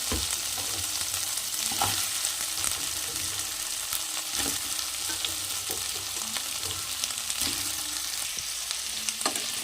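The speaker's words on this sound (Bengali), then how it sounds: "এখন ভালো করে মশলার সাথে মিশিয়ে নেড়ে ছেড়ে একটু ভেজে নেব সবজিটাকে" Drumsticks and potato frying in spice paste for a rohu fish curry, a steady close sizzle with scattered stirring knocks and scrapes throughout.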